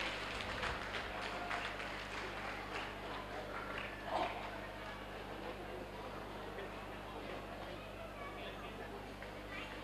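Applause from the audience at a chess tournament prize distribution, a soft, distant patter of clapping that is strongest early on and then thins into a steady room murmur, with a voice over a PA system running throughout.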